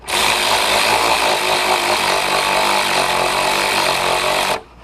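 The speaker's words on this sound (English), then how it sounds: "Now we got our assembly all in, and start tightening the bolt." A power tool tightens the bolt on a VW Passat / Audi A4 clutch fan bearing assembly, a loud, close, continuous whirring roar lasting about four seconds before cutting off abruptly.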